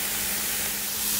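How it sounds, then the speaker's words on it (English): Eggplant sauteing in a hot pan for ratatouille, a loud, dense, continuous sizzle and hiss heard up close with no voices over it. "And then we're going to saute our eggplant."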